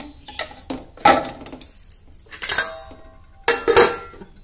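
A metal pot is set down into a pressure cooker while cooking dal khichdi, giving a few separate sharp clanks and scrapes of metal on metal, close and clear.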